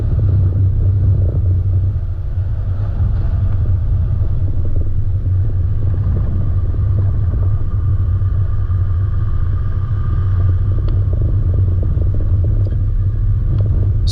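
An all-wheel-drive vehicle runs over a loose gravel track near Innamincka with a steady, loud low rumble of engine and tyres on stones that holds for the whole stretch without a break.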